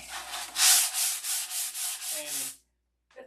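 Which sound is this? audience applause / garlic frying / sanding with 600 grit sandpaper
sanding with 600 grit sandpaper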